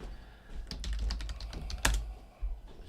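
Rapid clattering keystrokes on a computer keyboard come as a quick burst of sharp clicks, close and fairly loud, ending in one harder key press and a couple of trailing taps, with no talking.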